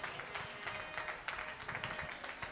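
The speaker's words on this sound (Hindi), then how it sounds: "जोरदार तालियों से स्वागत" Applause from a village audience greets a speaker taking the stage at a kirtan gathering in Badgaon, a continuous crackle of many hands clapping at moderate volume for a few seconds.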